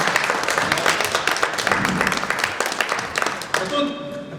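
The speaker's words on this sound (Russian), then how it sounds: "Пожалуйста, под ваши аплодисменты." Audience applause welcoming Dr. Bassam at an international art exhibition on Palestine, a busy spread of clapping that fades as a tonal sound enters near the end.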